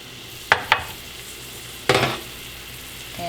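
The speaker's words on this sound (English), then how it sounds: "I'm going to put my onions in here" Chopped onions hit hot canola oil in a pot on medium-low heat, giving two quick sizzling crackles, then a louder hiss burst, each fading fast over a quiet kitchen background.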